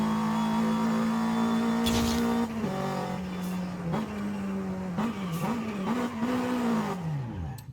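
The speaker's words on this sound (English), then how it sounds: "Sounds good from the inside though. Sounds like a race car." A Toyota MR2 sports car engine in Forza Horizon 5 revs high and holds, then dips and climbs through several quick shifts before winding down; no voices.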